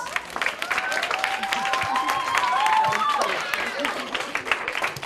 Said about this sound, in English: Let's give a round of applause for Dawn Lopes.